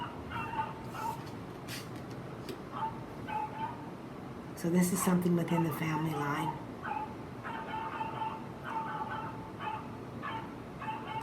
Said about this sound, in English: the dog is just barking like crazy